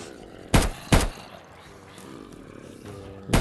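AK-47 fire in Minecraft PE rings out as a few sharp, loud gunshot cracks: two close together early on, then another near the end, over quiet game background noise.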